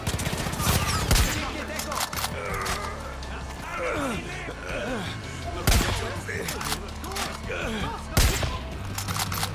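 Dense gunfire in the video game Far Cry 5, including shotgun blasts: repeated loud cracks and bursts of shots over continuous battle noise, with a voice talking now and then.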